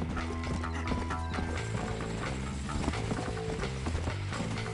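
Galloping horse hooves pound in a steady, rapid rhythm while riding in the video game Red Dead Redemption, loud and continuous amid a dense mix of game sounds and clattering mechanisms.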